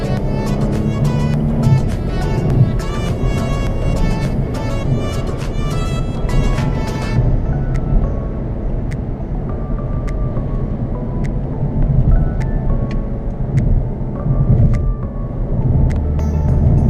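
A Mercedes-Benz E-Class E350/E400 cabriolet on a spring drive, its engine droning loud and steady from inside the car with rising and falling revs across gear shifts and a musical tone fading out partway.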